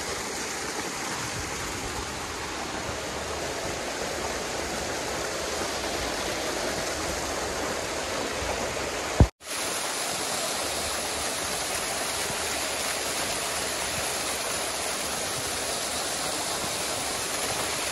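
A steady, dense rush of a waterfall roars continuously at close range near Mid-Levels, Hong Kong, dropping out for just an instant midway before resuming.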